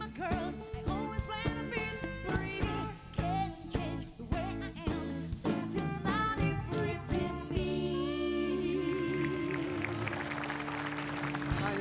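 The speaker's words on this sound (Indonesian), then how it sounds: "Beri tepuk tangan yang paling meriah untuk Anya Dwinov." An Indonesian TV show audience applauds as a guest is welcomed, with loud clapping and cheering mixed with bright studio music, building into a dense, sustained ovation toward the end.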